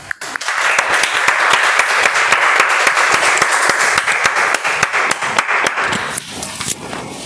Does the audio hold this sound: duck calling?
no